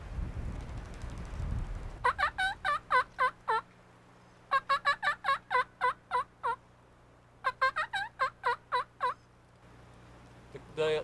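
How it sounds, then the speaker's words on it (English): Three series of rapid, evenly spaced wild turkey lost-call yelps, each run of about six to eight notes, separated by short pauses over light wind noise. "they do this little lost call"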